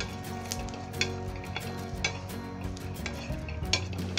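Garlic heats on a hot tawa griddle with a steady soft sizzle, punctuated by occasional light metallic clinks of a utensil against the pan at roughly regular intervals.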